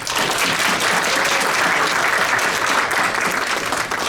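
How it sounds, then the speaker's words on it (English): Sustained audience applause fills a hall at a CUNY Law School event, dense and steady throughout without a break. "give Camille Massey and Arpita Vora, who represent the law school on the Consortium, a big round of applause"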